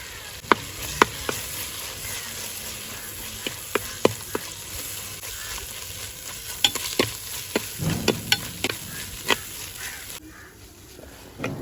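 Ginger, garlic and onion paste being sautéed and stirred for crab curry in a clay pot, with a steady sizzle broken by repeated sharp clinks and scrapes of a spoon against the pot.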